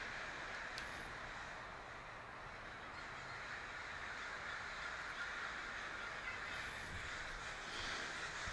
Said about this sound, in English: The sky is just full of birds.